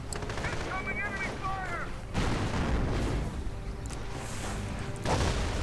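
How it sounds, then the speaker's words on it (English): Bazookas firing at a Panzer IV tank in a World War II strategy game: scattered gunfire and booming blasts of battle, with a few distant bursts over a continuous rumbling din. "Do see the Panzer IV coming under fire from the bazookas, trying to flank it"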